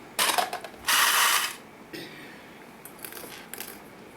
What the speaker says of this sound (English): I'm just going to clip this into place